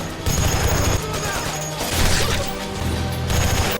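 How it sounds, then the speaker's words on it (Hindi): A missile blast breaks open a bunker gate in a movie scene, followed by heavy gunfire. The sound is a dense, loud, continuous roar of crashes and bursts under a dramatic soundtrack. "धमाके से दरवाजा टूट जाता है। गोलियों की बारिश के बीच"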